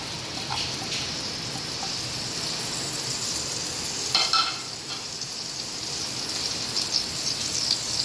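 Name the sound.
mustard, dried chillies, curry leaves tempering in hot oil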